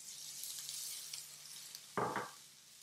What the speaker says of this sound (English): And we're just frying that until it starts to become fragrant.